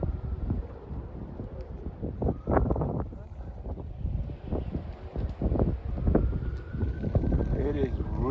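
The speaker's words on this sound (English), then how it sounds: "It is really windy, guys," Strong wind buffets an outdoor microphone where birds fly, a continuous loud rumble with gusting surges and low blustery roar throughout.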